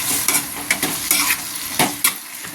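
Dried red chillies and curry leaves sautéing in a pan, with a soft sizzle broken by several sharp spatula scrapes and stirs in an uneven rhythm.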